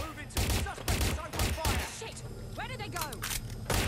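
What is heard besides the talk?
gunfire in the video game Watch Dogs Legion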